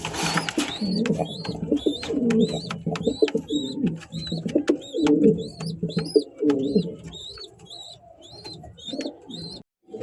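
King and Shirazi Lahori pigeons cooing and calling in a steady repeated series, close and clear, with soft rustling underneath.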